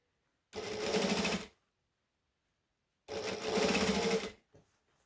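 Two close bursts of a sewing machine stitching a sling bag, each about a second long, separated by near silence, then a faint short tap at the end.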